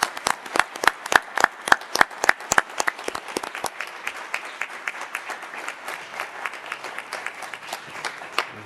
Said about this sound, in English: if we could give these gentlemen a round of applause